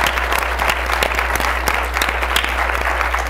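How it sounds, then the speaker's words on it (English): A crowd at a climate change panel applauds steadily, many hands clapping in a dense, even patter that holds level throughout, with no talk over it. "I think we all owe John Podesta and the entire team a round of applause"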